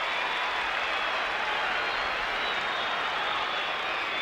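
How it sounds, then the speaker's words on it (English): A football crowd at a 1991 AFL match between St Kilda and Carlton applauds and cheers a Carlton goal kicked by Kernahan, a dense, steady roar of clapping that fills the whole stretch. "by the reaction of the crowd on that occasion as Kernahan kicked Carlton's third"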